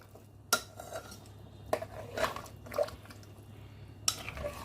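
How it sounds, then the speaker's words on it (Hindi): A spoon stirs bottle gourd and chana dal in a pot, with scattered metallic clinks and scrapes against the rim and wet squishing between them, close and fairly loud with no talk. "अच्छी तरह से मिक्स करेंगे"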